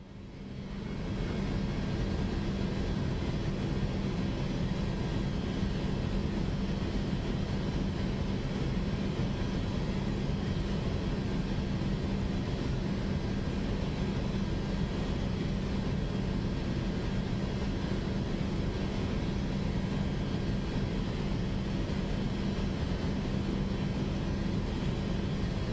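Boeing airliner engines in the Microsoft Flight Simulator game produce a constant broad roar with a steady low hum that rises at the start and then holds unchanged throughout.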